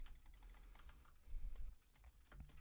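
A computer keyboard clicks under steady typing, a quick run of close, crisp keystrokes with some heavier thumps in the middle, all quiet and without talk.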